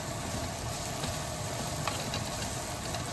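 Vegetables sauteing in butter and steak grease in a pan, a continuous even sizzle with faint crackles throughout, no talking.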